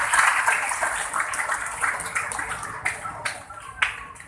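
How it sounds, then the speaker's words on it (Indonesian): A church congregation at a Christmas service clapping hands, a dense burst of applause that thins into scattered, louder individual claps as it fades, close and fairly loud. "Mari kita berikan tepuk tangan buat Tuhan Yesus."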